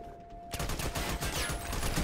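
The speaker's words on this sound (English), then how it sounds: "I'm using my pistol again. That's a pistol." Pistol shots in the Army of Two video game, a burst of rapid gunfire starting abruptly after a half-second lull and continuing loud and dense to the end.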